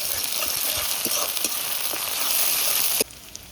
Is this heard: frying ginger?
yes